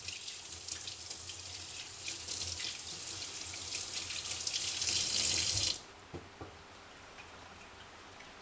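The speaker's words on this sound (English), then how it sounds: "And wash my hands." A kitchen tap runs steadily while hands are washed, the water rushing and splashing close by, growing slightly louder before shutting off abruptly, followed by a few faint drips and quiet handling.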